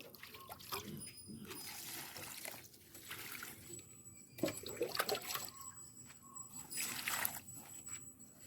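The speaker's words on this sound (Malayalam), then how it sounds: "ഇങ്ങനെ അങ്ങ് ഒഴിച്ചു കൊടുക്കുക. അതിൻ്റെ ചുവട്ടിൽ ഒഴിച്ചു കൊടുക്കണേ." Spray solution poured from a container onto garden soil at the base of a plant, a faint intermittent trickle and dribble of liquid in short bursts, fairly quiet and close.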